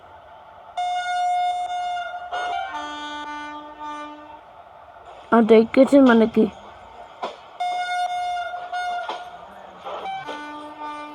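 A WAG4 locomotive in an Indian railway simulator game, hauling ICF coaches, sounds several horn blasts, each a sustained multi-tone blare, with a short burst of rapid honks midway; a person talks in between.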